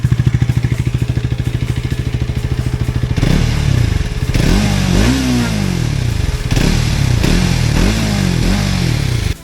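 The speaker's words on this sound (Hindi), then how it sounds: "राइड करते टाइम भी एग्जॉस्ट का ग्रंट फील होता है. इंजन चिल्लाता नहीं है." A Hero Xtreme 250R motorcycle idles with a steady, even thrum, then revs repeatedly, its engine and exhaust rising and falling in loud, close bursts with no talk over it.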